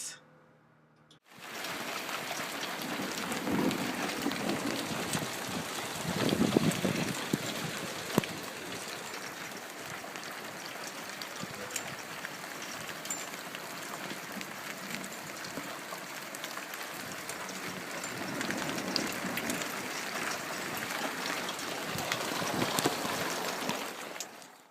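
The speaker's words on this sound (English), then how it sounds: "the giant, who wasn't even invited to the show, made it start to hail" Steady, dense patter of hail on a roof, continuous and fairly loud for the whole stretch after a brief silent start, with slight surges in intensity and no voices over it.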